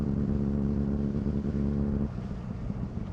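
A Honda Transalp motorcycle passes on a road on the island of Thassos, Greece, its steady engine drone loud and close before the pitch drops as it moves away.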